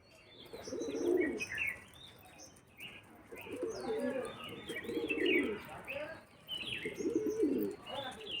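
Domestic pigeons coo repeatedly in a loft, soft rolling coos in bursts with chirps and occasional wing flaps, close by, with quiet human speech in the background.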